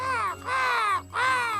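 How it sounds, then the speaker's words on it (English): A crow gives two drawn-out, ringing caws separated by a short pause, close and clear with no other sounds around them. "Look, there's a crow."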